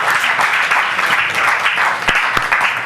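Dense, steady applause from a crowd for Jessica Obele, winner of a TVC Communications female debate, loud and continuous, with a few sharper claps standing out near the end.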